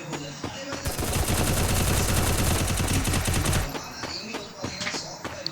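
In a battle royale video game, a long burst of rapid automatic gunfire rattles for about three seconds, followed by scattered single shots and game sounds, with a voice speaking faintly underneath.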